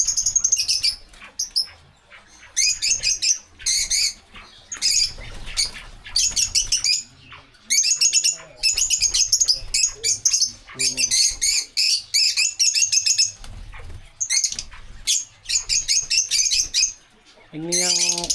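Lovebirds and albino budgerigars in a breeding aviary chirp and squawk in dense, repeated bursts of high calls, fairly close and loud, with brief pauses between flurries.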